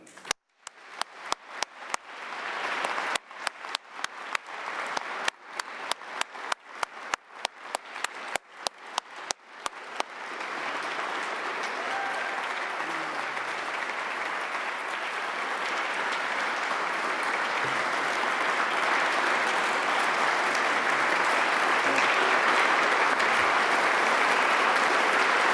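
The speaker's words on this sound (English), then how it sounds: "to put your hands together to show our enormous appreciation" An audience at the WSET Awards 2022 ceremony claps, starting as scattered individual claps and swelling into loud, sustained applause from a large crowd.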